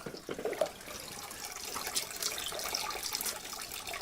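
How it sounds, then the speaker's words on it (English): Sulfur spring water running down an old trough by a well house, a steady close trickle and splash with light gurgling throughout. "there's actually an old trough that this water is supposed to run down"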